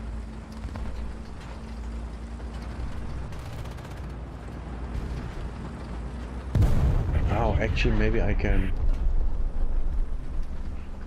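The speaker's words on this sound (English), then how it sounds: "Now that was a big explosion." A big explosion in a video game erupts as a sudden broad roar over constant rumbling gunfire and engine noise, while someone talks throughout.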